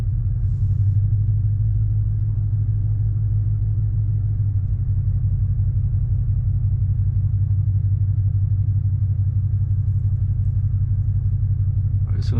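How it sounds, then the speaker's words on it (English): A car engine idles close by with a steady, loud low rumble on a wildlife loop road in Custer State Park, South Dakota, continuing almost unchanged for the whole stretch, ending in a brief sharp click. "As soon as he heard my engine"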